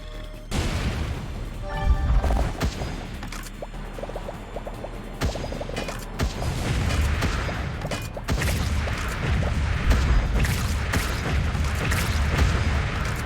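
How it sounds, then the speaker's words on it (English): Repeated booms and crashing blasts from the Wall World game erupt one after another, loud and dense, with gunfire-like bursts layered through a continuous rumbling mix. "More explosions!"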